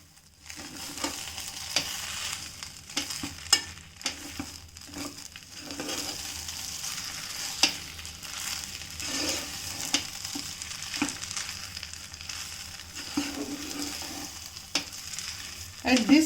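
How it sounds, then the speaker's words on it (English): Spoon stirring uppupindi with about two tablespoons of ghee in a hot pan, soft scraping strokes over a steady sizzle, close and continuous with no talk. "I am just giving it a mix."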